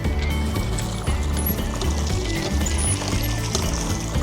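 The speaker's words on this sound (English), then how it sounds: "there's always water coming out the bottom taps, but you can also pump your own water" Water gushes steadily from a hand-pumped public well tap in Matsumoto, Japan, a continuous close splashing stream with faint rhythmic pump creaks underneath.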